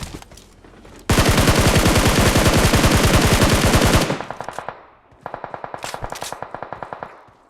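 Rapid automatic gunfire in a mobile battle royale game, a loud continuous burst lasting about three seconds, then after a pause a second, shorter run of evenly spaced shots.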